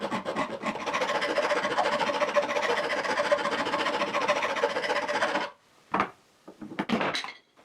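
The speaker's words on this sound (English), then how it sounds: "I have a half-round file, and that insert plate is aluminum, so I'll remove the inner edge" A half-round file rasps steadily across the inner edge of an aluminum router table insert plate for about five seconds, loud and continuous, then a few short separate strokes follow after a pause.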